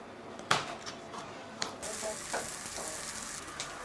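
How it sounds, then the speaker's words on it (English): Steady frying sizzle of marinated chicken breasts and vegetables in a pan, with a few sharp clinks and scrapes of stirring near the start and middle. "We are adding our pre-marinated chicken breasts to simmer, and just marinated vegetables, sauteed vegetables."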